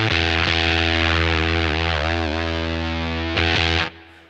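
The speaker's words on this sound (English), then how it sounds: "this is what it sounds like going into just the Kangra by itself" Electric guitar on the neck pickup driven through a Walrus Audio Kangra fuzz pedal, one thick, saturated sustained chord with a buzzy harmonic-rich tone and slight pitch bend, loud and alone, cutting off near the end.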